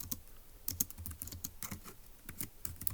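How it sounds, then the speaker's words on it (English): Steady typing on a computer keyboard, close and soft, with a continuous patter of key clicks at an uneven rhythm and no talk over it. "let's go ahead and type that up in our notes in section A"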